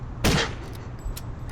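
A single sharp gunshot in the video game DRIV3R, loud and close, followed by a fainter trailing tail and a few small clicks.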